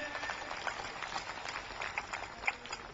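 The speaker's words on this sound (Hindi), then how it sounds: "जोरदार तालियां बजाई जाएं" A political rally crowd in Mandi, Himachal Pradesh applauds in a dense, steady wash of clapping that holds at an even level for the whole stretch, with a few sharper claps standing out.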